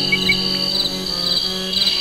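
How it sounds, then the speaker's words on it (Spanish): Steady, dense chirping of crickets fills the night air in the bush, a continuous high trill with a few faint extra chirps layered over a low ambient hum. "Grillos y ranas se escuchaban en el monte."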